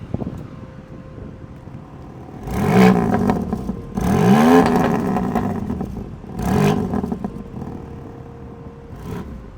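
A Lamborghini Huracán Evo revs with its exhaust mode on. Three loud, swelling blips rise and fall in pitch, separated by short lulls, with some wind noise and a faint blip at the end.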